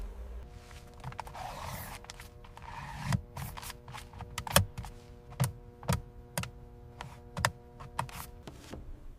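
Stacked papers shifting inside the smooth-lined glove box of a 2018 BMW X5, giving a run of soft, dry scrapes and light taps at an irregular rhythm over a steady low hum, close and quiet.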